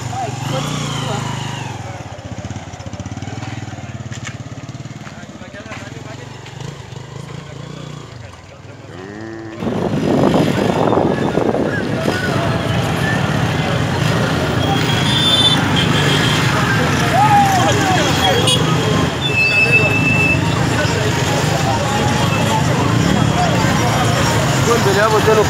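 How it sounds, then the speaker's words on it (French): A motorcycle rides through busy city traffic in Goma, engine rumble steady and loud after a quieter start, with passing vehicles, horns and people talking over the noise. "nous avons choisi de circuler en moto pour vous faire découvrir encore davantage la ville de Goma."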